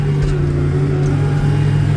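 Tractor engine (John Deere or New Holland) running loud and close while levelling ground with the back of its bucket, a steady low drone with a constant hum, no voices.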